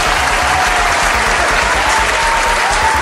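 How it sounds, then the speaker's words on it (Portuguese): Audience applause at a Brazilian television program in Recife, a dense, steady wash of clapping holding loud and even from start to finish, with crowd noise underneath. "Cadê as palmas?"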